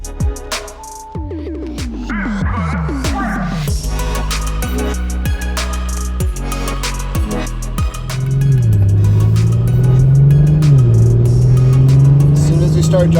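Modified Audi RS5 with an upgraded high-pressure fuel pump and a new tune, heard while driving: the engine climbs through rapid gear changes, then settles into a steady, loud drone, with occasional voices over it.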